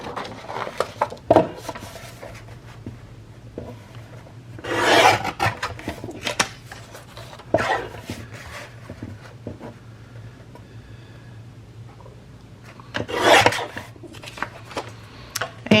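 Paper being trimmed during a craft project, giving several dry rasping cuts in bursts with quiet stretches between and a steady low hum underneath.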